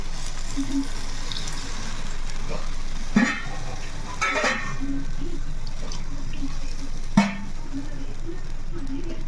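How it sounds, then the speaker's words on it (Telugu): Water added to dried fish curry frying in a clay pot, steady sizzling with a few sharp scraping and stirring bursts, the hiss continuing evenly in the background. "ఇప్పుడు వాటర్ వేస్తుంది"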